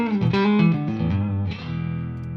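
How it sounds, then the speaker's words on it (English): Electric guitar through a Fractal Axe-FX III with ambient reverb: a few sustained, harmonically rich chords and notes ring out close and loud, trailing off into a smooth reverberant wash. "This is the ambient reverb, okay?"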